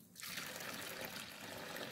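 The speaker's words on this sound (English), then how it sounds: "Then I pour in warm water to cover it." Warm water is poured from close by over fish in a pot while preparing Nigerian Anambra Nsala white soup, producing a continuous, steady splashing stream.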